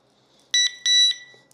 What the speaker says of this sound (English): It's going to continue to beep.